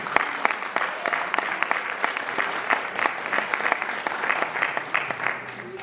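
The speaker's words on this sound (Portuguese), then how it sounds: "Pode aplaudir ao Senhor?" A congregation at a family church service in Jundiaí claps in a steady, moderately loud round of applause, individual sharp claps audible throughout the hall.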